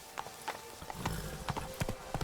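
Roach the horse trotting in The Witcher 3, a steady run of hollow hoof clip-clops close by with a brief voice near the end.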